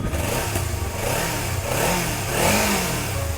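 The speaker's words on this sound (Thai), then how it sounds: "มาฟังเสียงท่อกันเลย ท่อเดิมๆนะฮะเสียงนุ่มๆพอๆเลย" A 2018 Kawasaki Z300 ABS twin-cylinder motorcycle with its stock exhaust revs close by, a soft, mellow engine note rising and falling through a few throttle blips over a steady idle.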